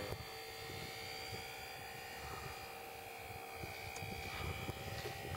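An RC model airplane flying overhead, its engine a continuous whining drone with faint shifting tones, moderately distant, against light wind noise on the microphone.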